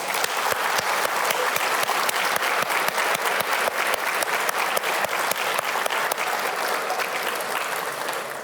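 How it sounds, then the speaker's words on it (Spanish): A church congregation applauds together during a sermon, a loud, dense and continuous clapping that holds steady throughout. "¿Podemos brindarle un fuerte aplauso a nuestro Dios fiel?"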